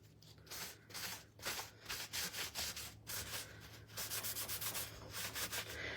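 Paper towel rubbed over fresh Dixie Belle paint with sea spray texture on a farmhouse-style piece, a run of quiet, rhythmic scrubbing strokes with short pauses between them.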